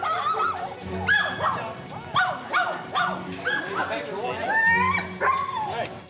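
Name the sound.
dogs barking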